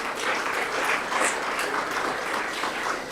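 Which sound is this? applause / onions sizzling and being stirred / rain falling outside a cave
applause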